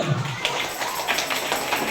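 Several people clap hands during an environmental volunteer training session, a scattered run of quick claps filling the moment at moderate loudness.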